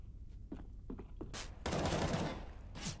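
Bursts of M4 rifle gunfire in the Counter-Strike game, a few short shots followed by a longer loud volley and a final burst, with no talking.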